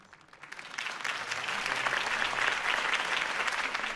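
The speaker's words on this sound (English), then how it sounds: "If only Mr. Wayne, my campaign's largest backer, could have heard that applause" A crowd in Batman: The Telltale Series breaks into applause for a mayoral campaign speech, swelling within the first second and holding steady, dense and fairly loud, with no voices on top.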